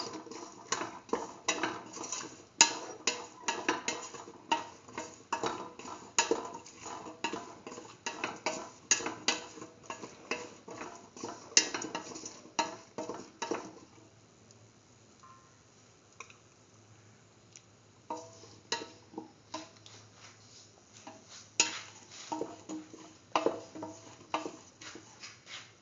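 A spoon stirs a spice mixture in a cooking pot for a split mung bean and eggplant stew, giving irregular close scraping and clinking for about fifteen seconds, then a quieter pause, then more scattered stirring.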